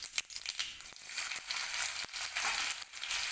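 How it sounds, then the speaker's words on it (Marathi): Onion sautéing with cumin seeds in a hot pan for a vegetable dish, a dense continuous sizzle and crackle with occasional stirring scrapes, loud and close, without speech. "जिरे, यामध्ये आता आपल्याला कांदा परतून घ्यायचा आहे"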